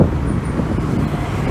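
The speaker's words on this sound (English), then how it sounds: "There's the 63 bus" The 63 city bus passes along Oakwood Avenue in York, Toronto, its loud, close engine roar and road noise steady throughout the moment with no talking.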